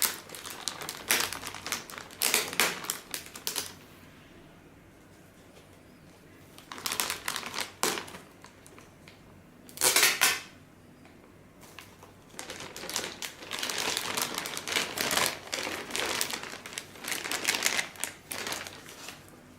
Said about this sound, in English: let me open this plastic.